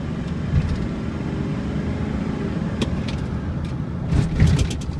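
A 2004 Chevy Silverado diesel dually makes a high-speed pass, a steady loud engine and road roar with wind rush, swelling slightly near the end.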